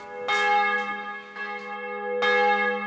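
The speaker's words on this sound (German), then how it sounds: "Zum Schwingen gebracht werden die Glocken über elektrische Schaltkästen." Tower church bells swung by electric drive, ringing out in loud, sustained strikes with long ringing overtones; several clangs overlap and decay, the swing bringing fresh strikes roughly every second.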